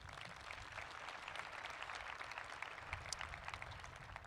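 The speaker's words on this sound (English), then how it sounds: "Yes, round of applause." Sustained applause from the audience at the Chaparral High School graduation ceremony in Parker, Colorado, a dense, steady patter of many hands clapping at moderate distance, with no talk over it.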